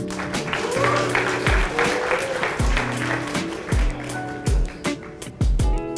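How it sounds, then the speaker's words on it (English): Audience applause for student pitch teams at a university demo day event, a broad wash of clapping under steady tonal background music, with brief louder swells and faint voices. "Let's give another round of applause for all the teams."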